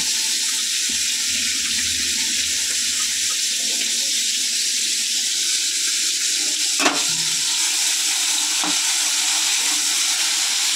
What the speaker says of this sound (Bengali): এবারে আমি চিংড়ি মাছগুলো দিয়ে দিই।